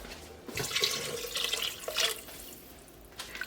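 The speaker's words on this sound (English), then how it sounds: "Then I'm gonna add about 2 cups of water." About two cups of water pour from a tap or vessel into a cooking pot for raw pasta, a soft splashing stream that swells and fades in a couple of surges, close by and fairly quiet, with no talking.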